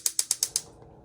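Five quick, sharp metallic clicks in even rhythm, close and crisp, as a propane stove's igniter is worked to light it; a faint low rumble follows briefly afterward.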